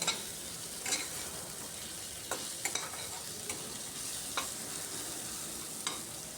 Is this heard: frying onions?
yes